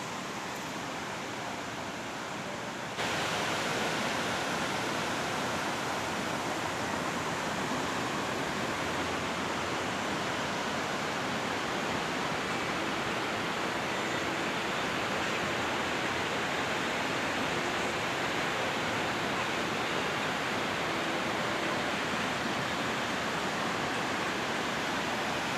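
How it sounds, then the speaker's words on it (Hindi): The Sutlej river rushes loudly in the evening, its water released from a project upstream, a powerful unbroken roar that swells after a brief quieter opening and stays steady throughout, with no voices. "तो ये थी सतलुज की आवाज़, पानी की आवाज़, कितनी तेज़ आवाज़ आ रही थी"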